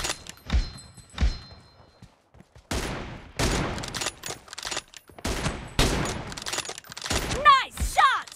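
Gunfire in the mobile battle-royale game PUBG Mobile, with a couple of sharp single shots, then several loud bursts and rapid volleys spread across the clip, with in-game voice callouts between them.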